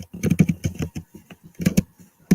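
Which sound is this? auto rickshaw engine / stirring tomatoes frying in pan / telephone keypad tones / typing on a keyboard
typing on a keyboard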